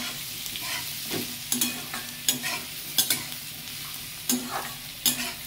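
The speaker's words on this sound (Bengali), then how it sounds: "এটাকেও ভালো করে নেড়ে নিতে হবে যতক্ষণ না রসুনের কাঁচা গন্ধটা চলে যায়" Garlic frying in a pan for Bihari chana dal, stirred with repeated scraping strokes over a steady close sizzle, no voices.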